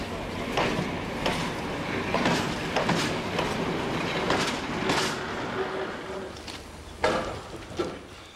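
Glass train shunting on the Trossingen railway, with a steady rolling rumble of wheels on track, rhythmic clanking and a few sharper metallic bangs near the end, heard close and clear without talk.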